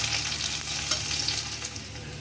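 Chopped ginger and green chilli fry in hot oil, giving a steady, dense sizzle with light stirring scrapes, close and continuous throughout.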